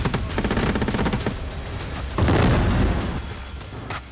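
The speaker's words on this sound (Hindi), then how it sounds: "ताबड़तोड़ अंदाज में गोलीबारी की जा रही है।" Rapid bursts of automatic gunfire during combat in Gaza between Israeli commandos and Hamas fighters, a fast crackling volley followed by a louder, heavier blast-like stretch and a final sharp shot.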